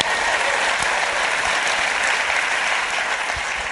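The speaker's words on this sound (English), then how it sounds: "Give him a round of applause." Steady, loud applause from a large audience at a live show in New York fills the whole stretch, an even wash of clapping without pauses or voices.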